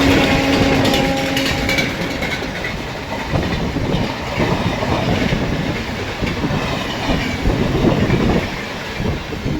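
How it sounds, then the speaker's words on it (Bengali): Aranyak Express train running at speed while overtaking the Bengaluru Howrah Express, a loud, steady rumble of rail cars with rhythmic clickety-clack wheel noise throughout, close and continuous. "এইবার ওটি হবে মনে হচ্ছে বেঙ্গালুরু হাওড়া এক্সপ্রেসকে ওভারটেক করছে আরণ্যক এক্সপ্রেস।"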